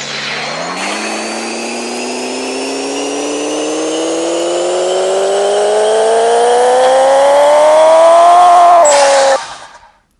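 A turbocharged car engine in the video game Pixel Car Racer climbs steadily in pitch through one long pull of about nine seconds, loud and continuous, then cuts off abruptly.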